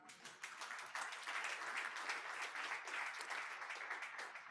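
A church congregation breaks into applause during a French-language service; a dense, fairly distant wash of many hands clapping that swells quickly and holds steady for several seconds, with a faint murmur of voices beneath.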